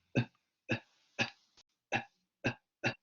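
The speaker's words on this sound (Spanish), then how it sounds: "como una tos sin mucho sonido" A voice makes six short, breathy, near-silent coughs, a silent-cough technique in place of throat clearing, evenly spaced about half a second apart, close and quiet.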